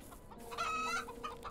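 Chicken in the survival game HumanitZ, a short burst of clucking with a bright rising cackle at close range, alone against a low ambient hum.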